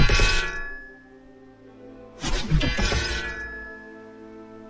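A video game strike sound effect for a Unity card game plays as bright, crashing impacts, one burst that decays, then a second heavier burst with overlapping hits that rings out.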